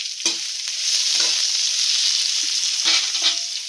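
Onion and green chilli pieces dropped into hot tempering oil with curry leaves for a ridge gourd curry, a loud, steady sizzle with a few sharp stirring scrapes of the spoon against the pan.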